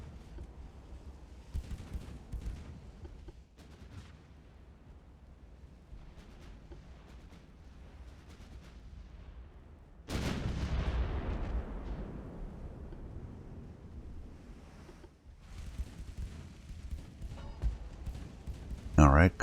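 Heavy naval gunfire from 11-inch guns striking an enemy ship in Ultimate Admiral: Dreadnoughts, a sudden loud boom with a long decaying roar midway, plus scattered distant rumbles and impacts, under a speaking voice.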